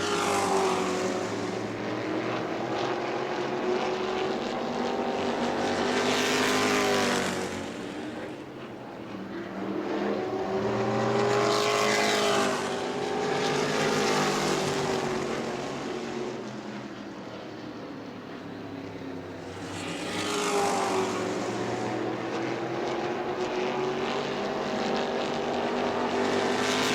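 Stock cars racing on the oval at the New Smyrna World Series, engines roaring as packs pass by in repeated loud surges, fading between passes with a continuous engine drone underneath.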